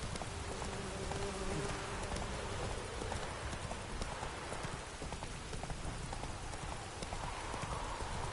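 Hooves of a horse ridden in the video game The Witcher 3: Wild Hunt clop steadily and continuously, fairly loud, over a rain-like wash of ambient noise, with no talking.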